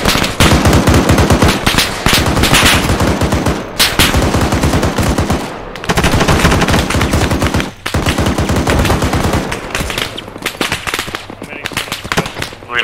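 An M2 heavy machine gun fires at a BRDM armoured vehicle in a video game: loud, close bursts of rapid thudding shots with short pauses between them, while players talk over the gunfire.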